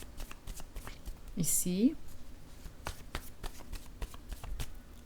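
Cards being shuffled and drawn for a tarot-style reading, a close, soft riffling and flicking of cards. Someone speaks quietly in French and a short whistle-like tone sounds midway.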